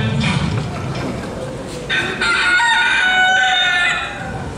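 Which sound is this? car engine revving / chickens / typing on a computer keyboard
chickens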